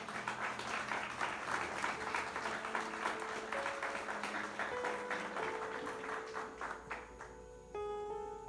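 Audience applause at a Spanish-language church sermon, a dense crowd clapping steadily for several seconds, with music tones rising underneath and swelling near the end.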